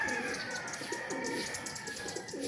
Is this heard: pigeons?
yes